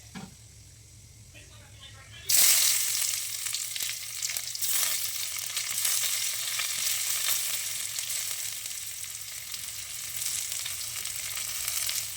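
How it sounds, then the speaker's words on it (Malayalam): Mustard seeds crackle and sizzle in hot oil for a tapioca dish, bursting in loudly after a quiet start and then frying steadily under some stirring. "അപ്പോൾ എന്തായാലും നമുക്കത് കടുക് വറുത്തിട്ട് കഴിക്കാം."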